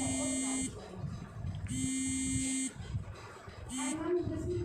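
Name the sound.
alarm buzzer on a landslide warning science model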